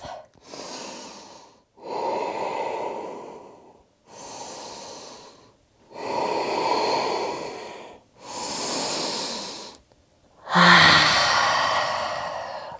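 Slow, deep breaths during a yoga forward fold: six long airy inhales and exhales, each a few seconds long with brief pauses between them, heard close and clear with no talking. The last breath is sharper and ends in a sigh.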